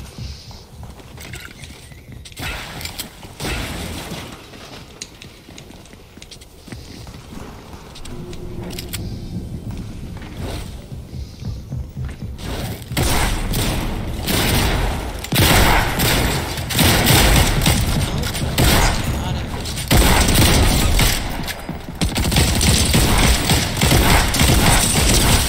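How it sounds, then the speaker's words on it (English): Shotgun fire and clattering mechanical action in a battle royale video game build into a dense, loud stream of bursts and ratcheting clicks that grows busier in the second half. "And this is a shotgun."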